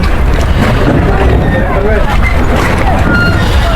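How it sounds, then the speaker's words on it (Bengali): A trawler boat engine drones steadily on the Padma River with water wash and wind noise, the motor close and continuous throughout, with voices faintly mixed in. "আমাদের ট্রলার সামনের দিকে যাচ্ছে"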